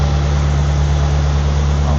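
A Mitsubishi 4G63 engine idles steadily with a close, loud low-pitched drone and a constant even throb, uninterrupted for the whole stretch with no voices.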